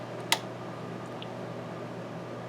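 A faint, steady electrical buzz from the vibrator of a 1956 Ford truck's original tube AM radio warming up hums in the background, constant and low, with one brief click near the start.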